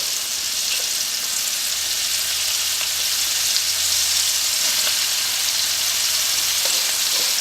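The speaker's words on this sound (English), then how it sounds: "Shake off the extra flour right into the hot oil." Flour-coated fresh vegetables, green beans for a casserole, frying in hot oil with a steady, close sizzle throughout and no talking.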